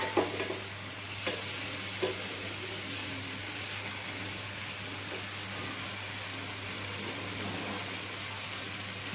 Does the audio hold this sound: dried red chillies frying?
yes